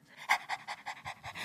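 A person imitates a panting dog with quick, rhythmic, breathy huffs, about seven close, even pants in a row.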